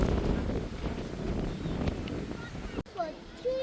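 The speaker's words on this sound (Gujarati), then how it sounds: "પવન આમ બહુ મસ્ત આવે છે, ઠંડો નથી કે કંઈ નહીં" Mild wind gusts across an open enclosure at Whipsnade Zoo, rumbling against the microphone for a few seconds before cutting off abruptly, followed by brief quieter background sounds.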